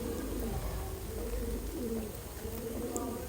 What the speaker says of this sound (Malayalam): നല്ല ക്വാളിറ്റി ബേർഡാണ് 2 റേസിംഗ് ഹോമർ.